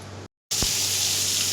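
After a brief silence, mustard seeds splutter in hot oil for tempering: a steady, close sizzling hiss with one sharp pop near the start.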